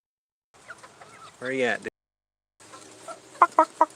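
Pet chickens cluck near the microphone in a series of short calls, including a drawn-out squawk and a few sharp clucks toward the end, with a person briefly speaking in between.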